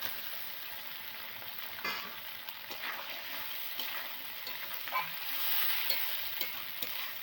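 Chopped tomato tipped into frying spices for a rohu fish and potato curry, a bright steady sizzle with stirring scrapes and small bursts, close and fairly loud throughout.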